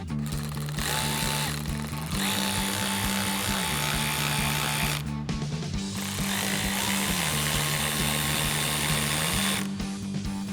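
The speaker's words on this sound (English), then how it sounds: "now we'll grab our 7mm socket on our ratchet and get our 7mm screws back in place" Ratchet with a 7mm socket driving 7mm screws back into a RedRock TCX HD front bumper on a 2021-2023 Ford F-150, heard as a steady mechanical whirring drone with shifting pitch, continuous and fairly close, with no talking.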